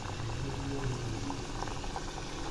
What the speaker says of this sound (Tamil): சிம்மில் வச்சுட்டு பிஸ்கட்டை சிம்மில் வச்சு தான் பொரித்து எடுக்கணும்